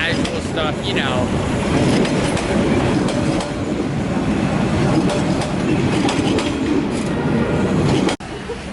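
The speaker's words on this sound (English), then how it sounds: "There is a train coming." Train passing on railroad tracks in Vietnam, a loud, continuous rumble with rhythmic clickety-clack and metallic squeals close by, ending abruptly near the end.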